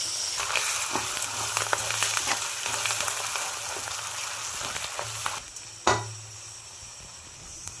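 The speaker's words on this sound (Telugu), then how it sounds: "ఆనియన్ ఒకటి పచ్చిమిర్చి నాలుగు కొంచెం పసుపు వేసి వేయించుకోవాలి" Steady loud sizzling of onion and green chillies frying in a hot pan, with a few scraping stirs and a sharp clink near the end as the hiss eases.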